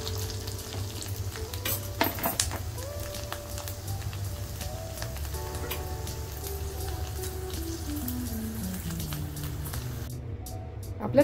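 Rice chakli deep frying in hot oil, a steady busy sizzle and crackle with occasional light stirring clinks, close and continuous throughout.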